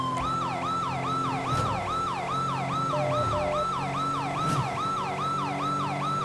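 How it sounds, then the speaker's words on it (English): A loud wailing police siren cycling rapidly up and down in a steady, continuous pattern on a highway, with traffic rumble underneath. "Come on, people, listen to the siren."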